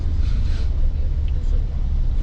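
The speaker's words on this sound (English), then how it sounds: "We're driving up here." Steady low rumble of a car driving, continuous and fairly loud throughout, with no talking.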